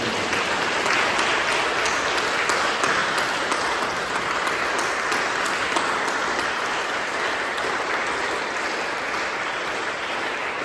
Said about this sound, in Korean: 박수로 초대하도록 하겠습니다.